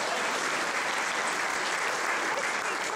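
A recital audience at a violin and piano performance claps in sustained, dense applause that stays even and fills the room from start to finish.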